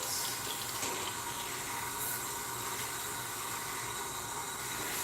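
Water runs steadily from a tap while hair is rinsed out, a continuous broadband rushing hiss at constant level for the whole stretch, close by, with no talking.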